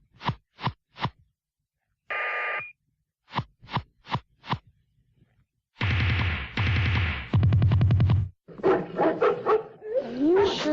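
A dog in a scene from the film Electric Dreams barks in quick sharp yaps and short runs, mixed with buzzy, synthesized-sounding tones and longer droning bursts, loud and close.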